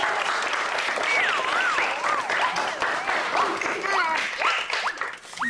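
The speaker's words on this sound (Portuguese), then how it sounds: "Cadê os aplausos do grupo Tristanic?" A crowd claps steadily for the Tristanic group in a children's television soap opera scene, the applause running throughout with whistles and cheering voices over it.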